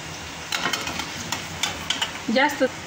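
Paneer deep-fries in oil in a kadhai, a steady close hiss of bubbling oil broken by light clinks of a utensil, with a brief voice near the end.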